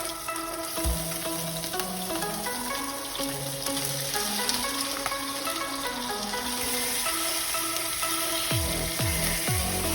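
Salmon fries skin-side down in a hot pan, giving a continuous dense crackling sizzle that stays steady throughout, with a tonal melody running faintly underneath.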